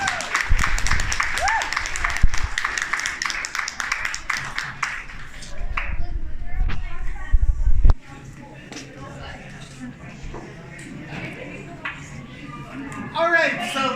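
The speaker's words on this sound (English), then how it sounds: "let's give another round of applause to Ivanna Seduchu" Applause and clapping from a crowd at a Halloween drag show, loud and dense for about eight seconds before dropping to scattered claps and murmuring, then swelling briefly again at the end.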